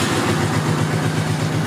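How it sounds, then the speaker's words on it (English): A 2004 Honda VT 1800 Neo motorcycle engine idles steadily with a smooth, low, even pulse, fairly quiet and continuous throughout. "not a very loud bike. It does have a smooth, quiet sound to it."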